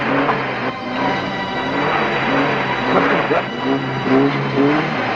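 A car engine revs loudly in repeated rising bursts as the car fails to reverse, with voices heard under the engine noise.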